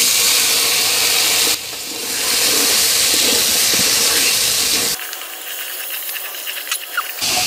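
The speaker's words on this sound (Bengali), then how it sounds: "এখন এর মধ্যে দিয়ে দিচ্ছি আগে থেকে কেটে রাখা আলুগুলো।" Cut potatoes drop into hot oil with browned onions, setting off a loud, steady frying hiss and sizzle that fills the clip, with a brief dip before it carries on.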